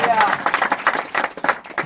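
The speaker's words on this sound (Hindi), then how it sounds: "ताली बजा खुदा का धन्यवाद" A church congregation claps hands during a Friday worship service, a dense patter of claps rising and falling with a voice speaking over it.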